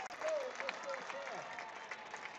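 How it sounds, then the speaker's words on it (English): A crowd cheers and applauds a touchdown at a Champaign Central Maroons vs. Marion Wildcats high school football game, fairly faint and distant, under a commentator's voice. "this crowd comes alive with yet another touchdown"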